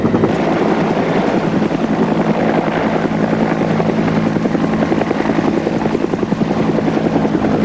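Steady, loud helicopter rotor thrum with a constant engine drone, filling the whole stretch with no voices.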